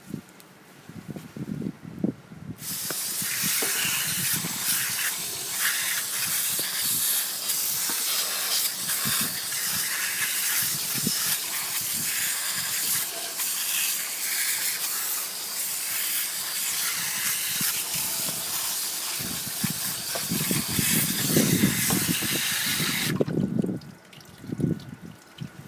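Sustained loud spray hissing onto a small air-cooled lawn mower engine during repair, running nearly twenty seconds without a break, with quieter handling noises before and after.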